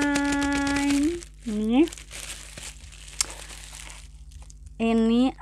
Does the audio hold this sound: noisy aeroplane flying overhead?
no